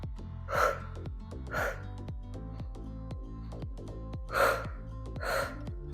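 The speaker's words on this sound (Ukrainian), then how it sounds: "Видих, видих." Forceful exhaled breaths during a high-intensity full-body Tabata workout with torso rotations, four sharp puffs in two pairs over steady background music.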